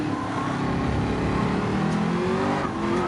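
A race car engine in an eRacing video game at Suzuka drones loud and steady throughout as the car slides into slight oversteer, with shifting tonal engine harmonics and no talk over it.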